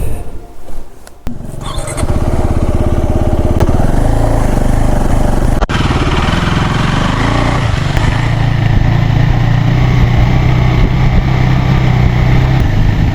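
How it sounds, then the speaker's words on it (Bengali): A motorcycle is unloaded and moved on a hill trip in rural North Bengal. After a quiet start, a loud, continuous engine drone sounds up close, with brief clunks as the bike is shifted. "ও নিজের বাইকটা নামাচ্ছে"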